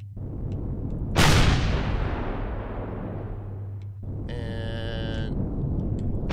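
Enemy gunfire in the space survival game Empyrion Galactic Survival, a single loud blast followed by a long fading rumble over a steady low hum, then a brief electronic tonal burst.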